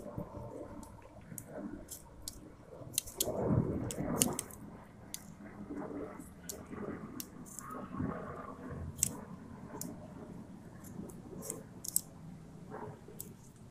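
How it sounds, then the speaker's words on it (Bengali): Bark being carved bit by bit from a bonsai trunk, heard as faint, close, irregular scraping and sharp little clicks that repeat in short bursts, with a louder crunching patch partway through and no talk. "কিভাবে আমি গাছের কাণ্ডটা আমি আস্তে আস্তে এখান থেকে খানিকটা করে আমি কাণ্ড তুলে দিচ্ছি"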